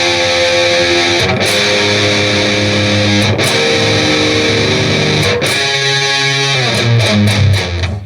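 Heavily distorted electric guitar plays a riff as a guitar lesson demonstration, with chugging palm-muted low notes, sliding octaves and brief gaps between phrases. It is loud and steady throughout, with no voice.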